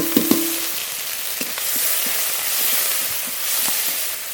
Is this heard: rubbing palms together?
no